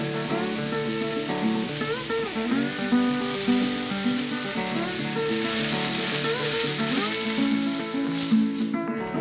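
A roll of Jimmy Dean breakfast sausage browns in a pan with a steady, close sizzle that runs under tonal background music.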